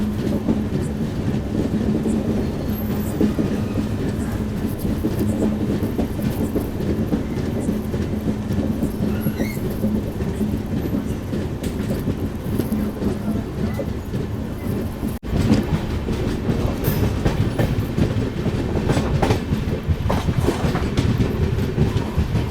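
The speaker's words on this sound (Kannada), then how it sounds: "ರಾಯಬಾಗ್ ಔಟ್ರ್ ಒಳಗೆ ಟ್ರೈನ್ ಫುಲ್ ಕರ್ವಾಗತ್ತೆ." The Goa Express rolls through a curve on the way out of a station, a loud continuous rumble with rhythmic clickety-clack of wheels on rails, heard from inside a third-tier economy coach.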